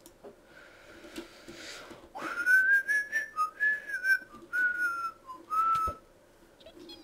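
A person whistles a short melodic tune in bright, sliding notes, clear and close, with a few pauses between phrases, over Minecraft Pixelmon gameplay.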